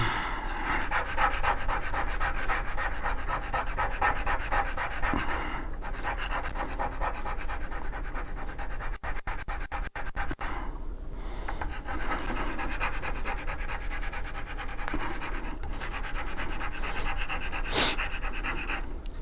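Sandpaper of 100 grit rubs steadily along the beveled end of a handmade arrow shaft, making a continuous close scratchy rasp that keeps going for the whole stretch, with no talk.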